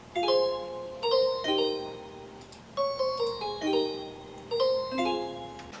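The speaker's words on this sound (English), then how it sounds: "I throw in some more bells just to give it a real pretty, sparkly type of sound." Bright bell tones ring in a repeating melodic pattern, sparkling chimes layered over a soft background within a music track.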